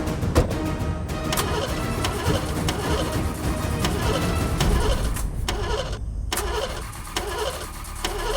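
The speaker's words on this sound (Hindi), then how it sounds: "ये इंजन की आवाज आ रही है, इससे तो घर में सबकी नींद टूट जाएगी।" An engine running outside a house, starting up and then idling with a steady mid-pitched rumble and a few brief breaks, heard from a moderate distance.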